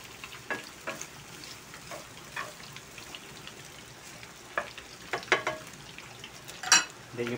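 A breaded pork chop fries in a pan with a soft, low sizzle, broken by scattered crackles and pops and a few light clinks of utensil against pan, close by and fairly quiet.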